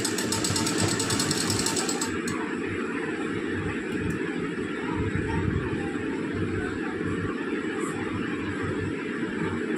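Sewing machine stitching folded blouse fabric, a steady continuous motor hum with rapid needle rhythm running throughout, close and fairly loud, with no talking.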